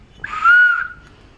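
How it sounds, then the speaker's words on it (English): A brass speaking-tube whistle leading to the engine room in the boiler room of the steamship Freshspring gives one steady, moderately loud, breathy tone lasting about half a second, with quiet surroundings before and after. "You also have in here the speaking tube just there, going through to the engine room, again with the whistle"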